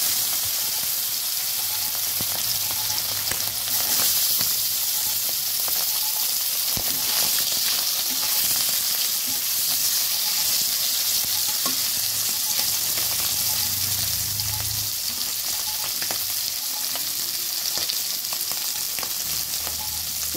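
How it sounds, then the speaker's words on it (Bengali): Tengra fish fried in hot oil in a wok, a constant loud crackling sizzle with occasional utensil clinks and shifting spatters. "এবার ট্যাংরা মাছগুলো ভেজে নিচ্ছি।"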